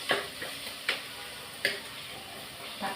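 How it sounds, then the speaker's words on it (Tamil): Onions and tomatoes sauté in oil for a Tamil garlic kulambu, a faint steady sizzle broken by a few sharp clacks of a spoon against the pan. "இது நல்லா வதங்கி எண்ணெய் பிரிஞ்சு வரணும்."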